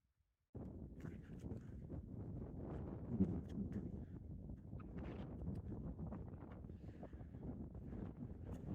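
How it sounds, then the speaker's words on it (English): Gusty wind blows in the Arizona desert, buffeting the microphone with low, uneven rumbling that sets in abruptly and keeps going. "Well, the wind just blew my hat off, even with the chin strap on."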